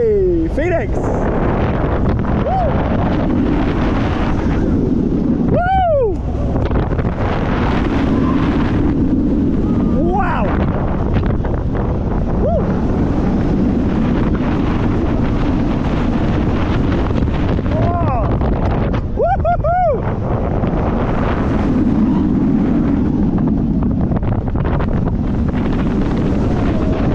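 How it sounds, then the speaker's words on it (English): Strong wind buffets the microphone at a Netherlands theme park near a wing coaster, a steady loud rumble running throughout with brief whistling gusts, while a person talks and exclaims over it. "Oh, it's windy."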